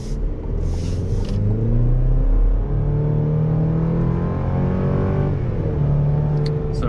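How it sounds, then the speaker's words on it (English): A 2024 Chevy Colorado Trail Boss mid-size pickup accelerates from inside the cab, its engine note rising in a steady, loud rumble, with no talking. "And we'll give it a little bit of gas."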